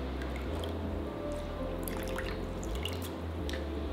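Water drips from a sponge into a bowl during a face-cleaning routine, a few soft, close drips and light splashes over a steady low background hum.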